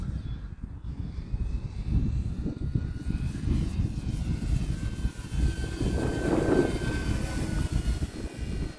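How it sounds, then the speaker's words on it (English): An E-flite T-28 1.2m RC model airplane flying overhead, its electric motor droning steadily with a rising and falling buzz as it passes, continuous and fairly loud, with no speech. "This is such a beautiful airplane, guys."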